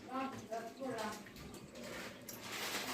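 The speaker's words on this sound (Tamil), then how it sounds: "வெறும் இலையை நல்லா அலசிக்கோங்க" Fresh mint leaves are swished and rinsed in a bowl of water while preparing vegetable pulao, a close, continuous sloshing and splashing under a voice talking.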